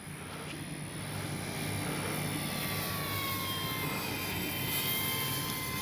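A Dynam F6F Hellcat RC warbird flies back down the runway with the wind. Its electric motor makes a continuous whining drone that holds steady and swells slightly as the plane passes.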